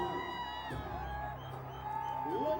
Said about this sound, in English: Crowd has loved it.